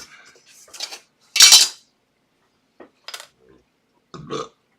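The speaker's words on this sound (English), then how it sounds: "Pardon me, I just belched." A single loud, abrupt belch from a person, standing out clearly among quiet scattered clattering of small objects, with no talking over it.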